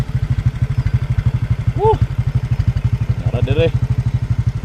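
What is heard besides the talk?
motorcycle engine on a steep slope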